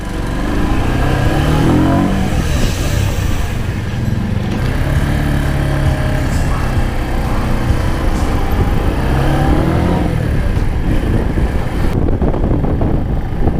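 A Keeway Cafe Racer 152 motorcycle rides along a road, its engine droning loud and steady with wind rush and mild rises and falls in revs throughout.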